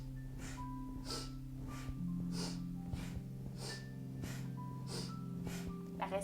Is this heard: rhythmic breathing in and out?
yes